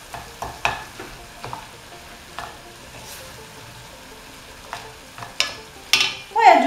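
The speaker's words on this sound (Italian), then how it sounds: "Diamo una bella mescolata." Chili con carne stirred in a pan: scattered scrapes and clacks of a spoon against the pan, with a soft sizzle underneath and a brighter hiss near the end.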